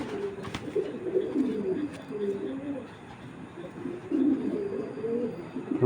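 Racing pigeons at a pigeon market coo steadily in low, rolling phrases, close and moderately loud over a constant background hum of the market.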